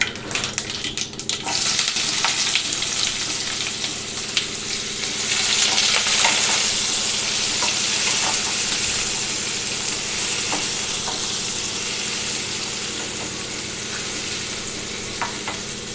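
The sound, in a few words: mustard seeds and onion frying in oil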